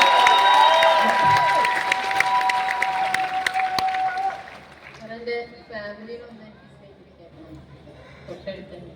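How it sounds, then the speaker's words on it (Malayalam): Audience applause and cheering at a stage event, loud and dense for the first half, then thinning out into scattered claps under crowd murmur and a speaking voice. "ഇതിന് കയ്യടി വേണം, കയ്യടി വേണം."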